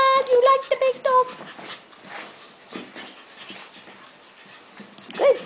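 Young dogs whimper and yip in short, high-pitched bursts, close by and loud at first, then softer sniffing and scuffling, with a final whine; a person talks to them softly in between.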